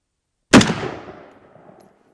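A single loud, close unsuppressed gunshot from a short-barreled 5.56 rifle with a 9.69-inch barrel and muzzle brake, a sharp crack followed by a decaying echo lasting over a second.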